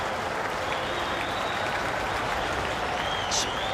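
A cricket crowd at a one-day match applauds in a steady, dense wash of clapping, loud and continuous throughout, with a faint whistle near the end.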